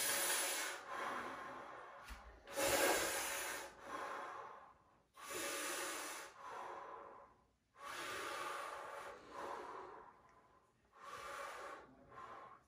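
Deep, forceful breaths drawn in and pushed out through the nose during a six-breath exercise, about five long rushing bursts in a steady rhythm with short pauses between, close and fairly loud.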